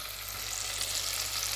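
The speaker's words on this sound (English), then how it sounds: "Sizzling away." Curry paste sizzles steadily in a hot pan, a continuous close frying hiss with no talking over it.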